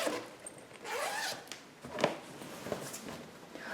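The underside cover of a new Cdiscount sofa is unzipped: several quick, close zipper pulls in short bursts with brief pauses between them.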